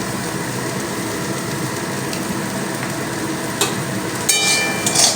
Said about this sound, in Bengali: খুব কড়া করে ভাজবো না বন্ধুরা হালকা করে ভেজে নিলেই হবে